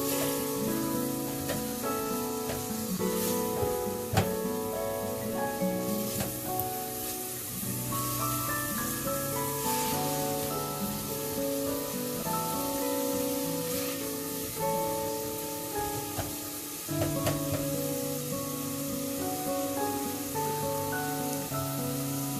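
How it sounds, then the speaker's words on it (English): Onions and celery sautéing in a pot for a plant-based Impossible Burger stew give off a steady, continuous sizzle at a moderate level, with faint tonal sounds layered underneath. "I'm going to let that saute a little bit."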